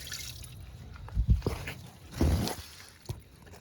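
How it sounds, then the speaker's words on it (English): Water is poured into the body of a Volkswagen Passat B5.5 wagon to check a leak, with a few low splashes and sloshes followed by trickling and dripping, close by and with no talk. "So let's pour some water in there."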